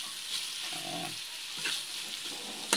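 Bitter gourd and egg fry in a pan, giving a faint, steady sizzle with occasional soft scrapes and stirring noises and a small clink at the end.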